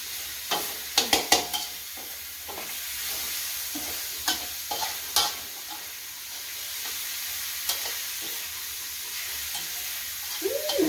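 Food is stir-fried in a pan, with a continuous sizzle under sharp clusters of metallic scrapes and taps as the spatula works, some strokes louder and bunched together, others sparse.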